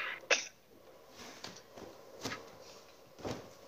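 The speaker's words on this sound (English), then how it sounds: "Sorry guys for sneezing, it's kind of cold." A single sharp human sneeze bursts out near the start in a cold basement, followed by faint thumps and rustling.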